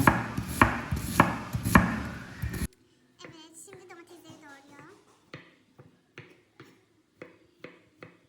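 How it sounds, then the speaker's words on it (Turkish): Onions being chopped with a knife on a board, at first loud rapid chops under kitchen noise, then sparser separate knocks, with a person talking partway through. "Annem şimdi soğanlarını doğruyor."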